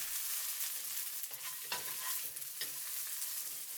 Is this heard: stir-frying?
yes